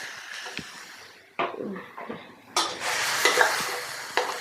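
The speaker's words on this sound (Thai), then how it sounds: "เราก็จะคนให้เข้ากันก่อนเนาะ" Pork stirred in a pan after white soy sauce is added for seasoning, with intermittent scraping and clattering strokes and a light sizzle underneath, nearby and moderately loud, with no talking.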